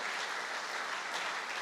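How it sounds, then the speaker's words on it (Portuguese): A church congregation claps steadily during a worship service, a dense, even wash of applause lasting under two seconds with no voices on top. "quer aplaudir o Senhor? Pode aplaudir"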